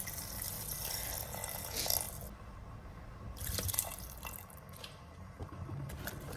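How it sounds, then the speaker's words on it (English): Water pours and splashes into a pot of vegetable and lentil soup, with two fuller gushes and softer trickles and drips between them, fairly close and with no talking. "And add your water."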